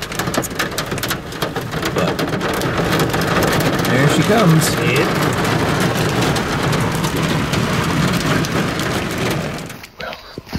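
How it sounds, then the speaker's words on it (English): Rain and pea-sized hail from a passing storm pound steadily around the microphone, a dense, loud hiss with scattered hard ticks, and a voice speaks briefly over it before the downpour cuts off abruptly near the end. "Just a quick shot of rain and some pea-sized hail."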